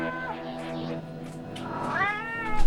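A cat meows twice, close and clear: a drawn-out tonal call at the start and a longer rising-then-falling one near the end, with little else around it.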